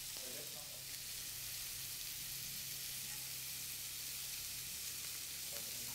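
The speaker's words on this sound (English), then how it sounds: "turn the scallop so that the other side is seared to a golden brown" Bacon-wrapped scallops searing in a hot pan give a steady, close, even sizzle that runs unbroken throughout, with a few faint clinks and no talk over it.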